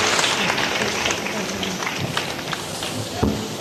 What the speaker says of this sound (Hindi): यहाँ से लगा करके वहां तक जोरदार तालियों की गड़गड़ाहट हो आ रही है